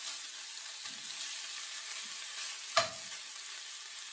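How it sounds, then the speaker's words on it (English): Shaved steak for cheesesteaks sizzles steadily in a hot pan, a constant frying hiss with a sharp scrape or clack partway through as the meat is turned and broken apart. "Once it starts to sizzle, we start to turn it over,"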